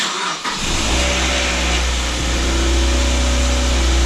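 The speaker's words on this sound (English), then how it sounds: "Starting a car up after you've worked on it." A Mazda MX-5 NC engine cranks and catches after an oil leak repair, then settles into a loud, steady running rumble close by.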